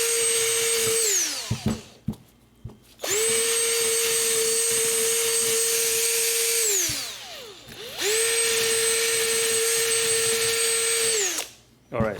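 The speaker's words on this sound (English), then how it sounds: "now we're gonna use our wire brush to clean this up" A wire brush spins against the front brake parts of a Subaru Forester, producing three long bursts of loud, steady motorized whirring, each winding up and spinning down.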